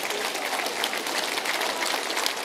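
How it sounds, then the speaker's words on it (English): A crowd claps after a speech at an outdoor birthday barbecue, a continuous, fairly distant patter of applause with no break. "they're even clapping for what I'm saying?"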